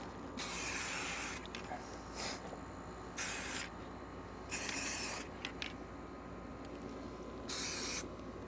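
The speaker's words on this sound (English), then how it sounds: "So spray paint goes, I guess." Short bursts of spray paint hiss onto the underside of a 1965 Ford Mustang, close and sharp. The four or five separate blasts of a second or so each are set apart by quiet pauses.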